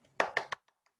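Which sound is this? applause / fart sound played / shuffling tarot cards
applause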